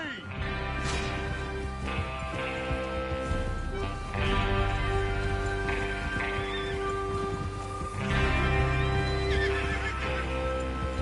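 Horses whinny and neigh over a steady rumble of galloping hooves and rolling ambience in Red Dead Redemption 2, with voices murmuring underneath throughout.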